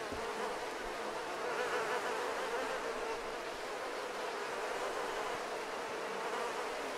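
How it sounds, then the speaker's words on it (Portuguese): Flies in the video game DayZ make a continuous, close, droning buzz that holds steady throughout, with no speech. "o barulho das moscas aqui tá atrapalhando muito"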